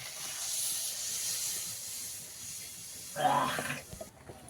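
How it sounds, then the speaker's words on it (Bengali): Water poured over sautéed potatoes and spices sets off a steady steamy hiss, then a brief louder burst of sizzling splash near the end before it drops away. "আলু আর মশলাটা একসঙ্গে কষানো হয়ে গেছে দিয়ে দিচ্ছি জল"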